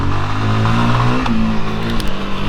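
A Voge 300 Rally adventure motorcycle's single-cylinder engine revs and pulls while riding figure eights in a parking lot, close and loud with the pitch rising and falling as the throttle changes.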